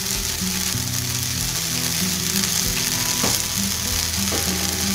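Ragi dosa frying on a hot pan as sesame oil is poured over it, giving a steady, close, even sizzle that carries through with a faint crackle or two and no talk.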